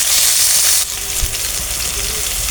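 Garlic paste and garam masala paste frying in a pan, a steady loud sizzle that drops abruptly to a lower crackle partway through, with a faint clink.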